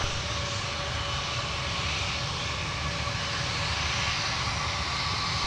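A United airliner taxis across the south parallel runway at Minneapolis airport, its jet engines giving a steady, even roar that holds unbroken throughout.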